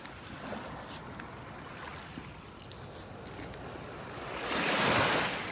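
Ocean waves wash onto a beach in North Naples, Florida, a soft steady wash building to a louder breaking surge near the end, with light wind and no voices.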